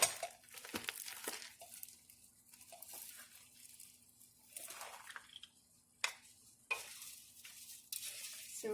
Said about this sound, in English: we're just going to mix the rice, making sure you get all that good stuff in the bottom